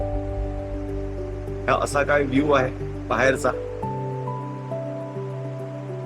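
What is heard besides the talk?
river flowing loudly after overnight rain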